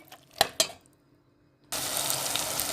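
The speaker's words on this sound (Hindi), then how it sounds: "लोबिया को हमने अच्छी तरह से भून लिया है।" Boiled white beans (lobia) hit a hot pan after a couple of soft clinks, then a loud, steady sizzle runs on without a break.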